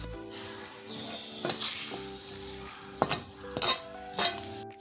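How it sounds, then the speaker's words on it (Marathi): Fennel seeds are dry-roasted in a hot kadhai, with a soft dry rustle and a few sharp clinks and scrapes as a spoon stirs them, close and fairly quiet. "आता मी बडीशेप भाजतेय."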